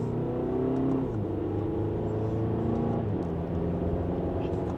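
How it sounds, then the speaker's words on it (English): A 2025 Audi A6 Convenience Plus sedan accelerates mildly in dynamic second gear, a smooth, steady engine hum heard from inside the cabin, loud and continuous without speech. "And just a mild acceleration, we're up to speed."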